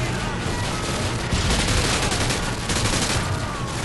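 Grenade blasts and rapid gunfire from a Modern Rambo 2 shooter game, a dense, continuous barrage of shots and booms filling the whole stretch at steady loudness.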